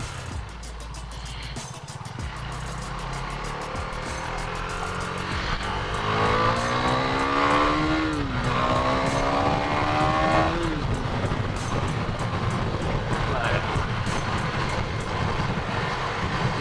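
KTM 390 Duke motorcycle engine revving while riding, rising and falling engine pitch climbing through sweeps, heard close under steady wind rush.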